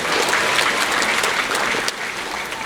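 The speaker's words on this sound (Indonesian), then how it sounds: "Tepuk tangan untuk Romo Didit." Congregation applauding a priest during a Catholic pilgrimage service at Santa Maria Fatima, sustained dense clapping throughout, loud and close, no talking.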